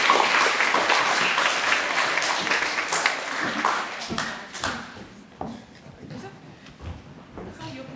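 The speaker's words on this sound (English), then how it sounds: "Can we give our sporting champions a big round of applause?" School assembly audience applauding a graduation presentation, dense clapping that is loud at first and then thins to scattered claps over about eight seconds, with some voices underneath.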